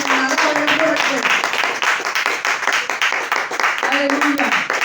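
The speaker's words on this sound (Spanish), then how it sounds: "Vamos a brindar un fuerte aplauso al Señor en esta mañana." A church congregation claps hard and continuously, a dense roar of many hands filling the space while voices talk and call out over the applause.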